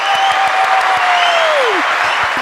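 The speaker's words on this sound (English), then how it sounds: "round of applause for my team" A crowd applauds throughout, a steady wash of clapping with a thin descending tone sliding down over it.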